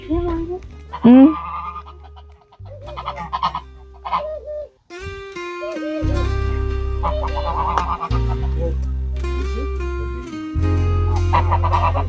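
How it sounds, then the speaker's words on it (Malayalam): Geese honk loudly and repeatedly at close range on a small farm, with a few chicken-like calls among them, while a person talks over the birds. "വാത്ത കോഴി ഒക്കെ ഉണ്ട് ഈ സ്ഥലത്ത്"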